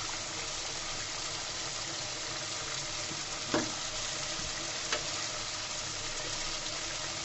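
Masala for lau chingri sizzles and fries steadily in hot oil in a pan, a continuous crackling hiss with a couple of brief stirring scrapes near the middle.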